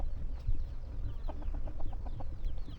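Fighting-cock chickens clucking in a backyard, a run of short repeated clucks over a steady outdoor background hum, moderately close, with no talk.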